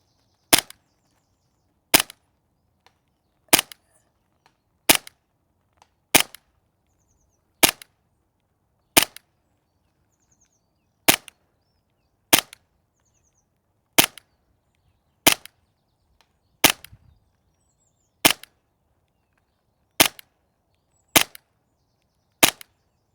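A Novritsch TP22 airsoft pistol fires 0.3 gram BBs at a target 50 meters away. There are about fifteen sharp, close, single snapping shots spaced a second or two apart, with near silence between them.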